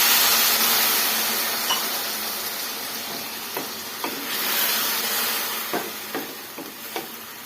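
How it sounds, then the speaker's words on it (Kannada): Half a glass of water goes into hot spicy brinjal khara in a pan, raising a loud, continuous sizzle and hiss, with occasional light taps of a stirring spoon against the pan. "ಈ ಖಾರಕ್ಕೆ ಸ್ವಲ್ಪ ಒಂದು ಅರ್ಧ ಗ್ಲಾಸಷ್ಟು ನೀರು ಸೇರಿಸ್ಕೊಳ್ಳೋಣ"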